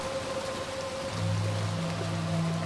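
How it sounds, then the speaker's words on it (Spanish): Steady rain pours down in the video game Little Nightmares 2, a dense even hiss of falling drops with a low hum underneath, no voices. "cómo cae la lluvia, me encanta eso"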